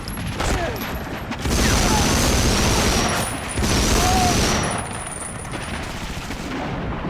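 Gunfire from the PS2 shooter Medal of Honor: Frontline, with bursts of rapid automatic shots in two dense stretches over steady game ambience, loud and close throughout.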